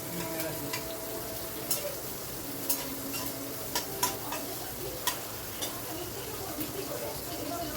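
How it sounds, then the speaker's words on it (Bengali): Chopped onion sizzles loudly in a pan over a high gas flame, a steady frying hiss broken by regular clicks and scrapes from the stirring utensil. "একটা পেঁয়াজকে কুচি করে কেটে রেখেছিলাম, সেটাও দিয়ে দিলাম। দিয়ে গ্যাসের ফ্লেমটা হাই করে একটু নাড়াচাড়া করে নিচ্ছি।"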